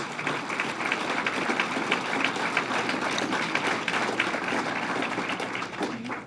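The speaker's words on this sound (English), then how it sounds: "So give them a round of applause" Crowd applause at the 2019 Great New York State Fair, a dense, steady wash of many hands clapping at once, sustained and moderately loud, fading slightly at the end.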